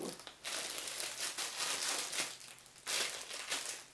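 Plastic packaging crinkles and crackles in bursts of rustling, close up and fairly soft, with no voices.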